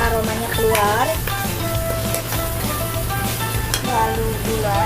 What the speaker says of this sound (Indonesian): Goreng sebentar sampai aromanya keluar.